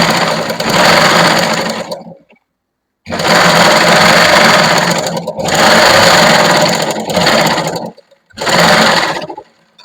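A sewing machine runs in loud, sustained bursts with short pauses between them, double-stitching the sleeve of a lined kurti.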